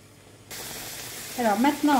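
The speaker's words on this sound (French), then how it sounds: "j'ajoute le bœuf et la sauce marinade" Beef and marinade sauce dropped into a hot wok for stir-fried beef noodles burst into a sudden, loud, continuous sizzle that keeps hissing steadily, with a voice speaking over it near the end.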